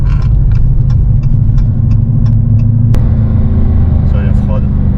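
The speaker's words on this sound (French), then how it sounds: "Le son du compresseur c'est sympa." A supercharged car engine drones steadily from inside the cabin, a constant mid-pitched hum with a faint supercharger whine, while a person talks over it.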